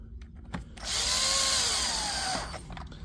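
A power driver runs one sustained whirring burst while driving a screw into the housing of a Dewalt DCH253 rotary hammer during a teardown and repair, close and loud, with a few clicks and handling noises before and after.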